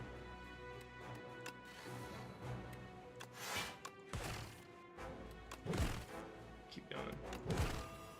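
Rocket Punch attacks landing in the card game Slay the Spire, a run of punchy thuds and crashes spread over several seconds amid busy game music and effects.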